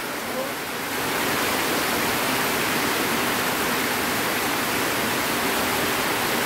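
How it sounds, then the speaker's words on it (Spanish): Steady, heavy rainfall pours down in a dense, even hiss that continues without a break and grows slightly louder after the first second. "Tiene como 2 horas y media de estar lloviendo ya."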